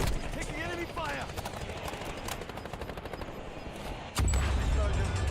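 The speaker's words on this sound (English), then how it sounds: "Enemy shooter! Taking enemy fire." Dense rapid gunfire in the Call of Duty video game battle royale Resurgence mode rattles through a busy game mix, with bursts of automatic shots, a heavier blast near the end, and in-game voice callouts over it.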